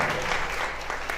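A church congregation applauds: steady, close, dense clapping fills the whole short moment at an even level.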